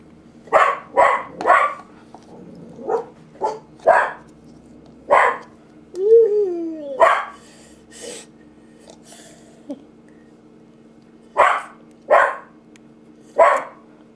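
A dog barks repeatedly in short sharp bursts, clustered then spaced out, close and fairly loud, with a brief whine in the middle.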